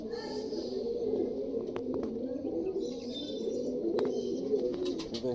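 Domestic pigeons, pairs of pure-bred racing and carrier birds, coo softly and continuously nearby, with occasional chirps and brief wing flaps over a steady low murmur of background activity.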